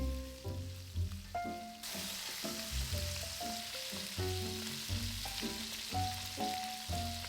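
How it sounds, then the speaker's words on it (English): Beef short ribs pan-frying as a stew base, a steady close sizzle and crackle that jumps louder after a couple of seconds, with tonal notes of background music running throughout. "pan fry for around 3 minutes on each side"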